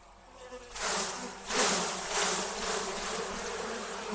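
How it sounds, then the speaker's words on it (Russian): Young honeybees shaken from a hive frame while splitting a colony; a loud, dense buzzing swarm swells up suddenly after a quiet start and keeps droning close by, with no talking. "Поэтому берем рамку с молодыми пчелами, опять же главное матку не зацепить, и стряхиваем сверху"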